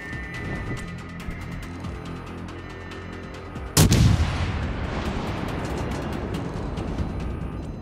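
A single loud naval artillery salvo booms out partway through, with a sharp blast and a long rumbling decay, over steady engine and ambient hum in the World of Warships Legends naval battle game.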